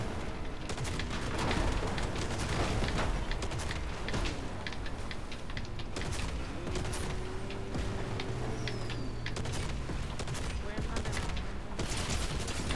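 Rapid gunfire bursts from a Fortnite match fill the scene continuously, loud and dense with overlapping shots and impacts, while players shout over the battle.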